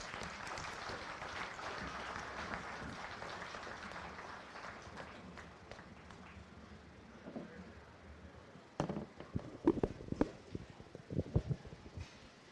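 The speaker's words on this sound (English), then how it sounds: "If you would please give those kids a nice round of applause." Applause from the crowd at a county fair beef show ring, a broad steady patter for the first eight seconds that thins out, followed by a few louder scattered claps and knocks close by.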